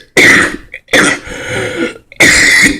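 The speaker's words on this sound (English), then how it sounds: "I cough so that I can breathe" A man coughs in three harsh, loud, close bursts, with a rough throat-clearing rasp between them and no talking.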